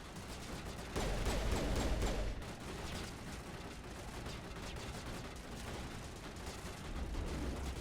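Rapid gunfire from the Mass Effect video game, a dense crackling stream of shots with a louder heavier burst early on, steady and continuous throughout with no speech.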